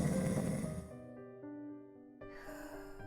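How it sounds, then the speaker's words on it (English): Snoring sound effect in a visual novel video game: a rough, breathy snore fades out, a soft tonal pause follows, then the noisy breath returns, set over quiet background music. "I'm surprised I don't hear this snoring on my floor"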